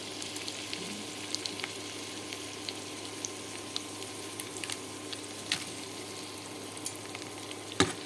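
Onions and chillies fry in oil for soft khichuri, a soft continuous sizzle with scattered crackles and occasional stirring scrapes, fairly quiet and close, with no voices.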